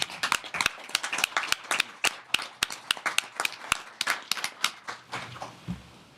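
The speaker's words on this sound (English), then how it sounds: "I would ask another round of applause for our outgoing councilman." Sparse clapping from a small room at a city council meeting honouring an outgoing councilman, distinct individual claps in an uneven rhythm that thin out and fade toward the end.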